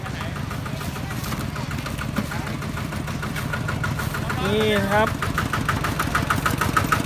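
A farm truck engine idles with a steady, knocking mechanical rumble, close by, while someone speaks briefly over it.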